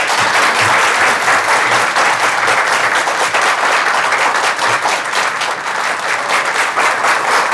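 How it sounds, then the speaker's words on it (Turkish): Loud, sustained studio audience applause on a Turkish television talk show, continuous dense clapping from a full crowd throughout. "Bu güzel alkışlarınız için hepinize çok teşekkür ediyorum."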